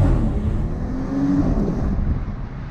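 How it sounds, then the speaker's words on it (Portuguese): A Porsche accelerates hard in electric mode, giving a steady rushing roar of road and wind noise with a faint rising whine, loud and close throughout. "Olha o jeito que ele arranca no elétrico"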